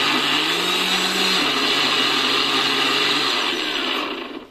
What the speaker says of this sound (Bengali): এবার আমরা এটাকে পেস্ট করে নেব।